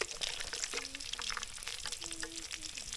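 Grated coconut frying in a pan, toasting over moderate heat: a close, soft, continuous sizzle and crackle with light scraping as it is stirred, no voices.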